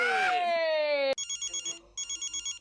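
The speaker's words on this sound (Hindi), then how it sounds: "हमारा कमिश्नर फोन पे फोन कर रहा हूँ।" A telephone rings, first a rising electronic tone, then repeated bursts of bright trilling rings with short pauses between them, fairly close and clear.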